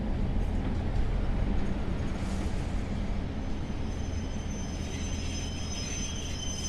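A Class 142 Pacer diesel multiple unit runs steadily on UK track in a train simulator game, giving a continuous low engine rumble and rolling rail noise with faint higher whine, loud and unbroken throughout.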